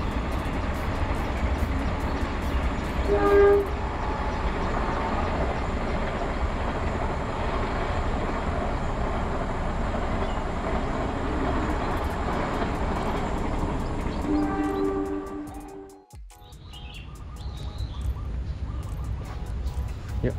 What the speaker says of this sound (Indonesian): itu kelihatan nggak sih kereta apinya?